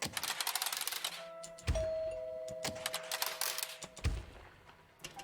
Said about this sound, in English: if you do a residential zone, you get the doorbell